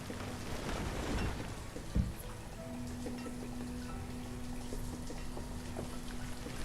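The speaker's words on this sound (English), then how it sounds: "It's raining." Steady rain falls in the village-building game Banished, a soft continuous patter and hiss with a faint tonal hum underneath and no voices.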